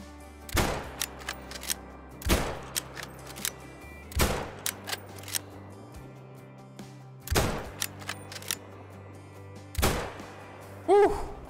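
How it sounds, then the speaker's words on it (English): Rifle shots ring out at cape buffalo at long range in theHunter: Call of the Wild: five sharp, loud cracks spaced a few seconds apart, each with a short echoing tail and fainter clicks between. "I think both those shots were right on"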